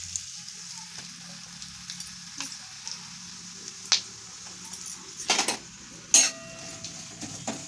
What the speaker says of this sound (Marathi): पूर्ण मसाला असं छानपैकी भाजून घ्यायचा आहे बरं का, त्याशिवाय आपली भाजी छान बनत नाही